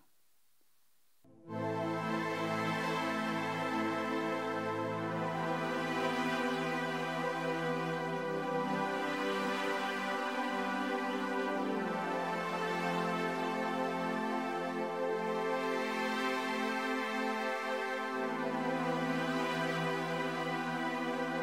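After a moment of silence, keyboard chords for the verse of "Your Kingdom Come" begin and sustain for about twenty seconds, full and steady, changing slowly with no voices.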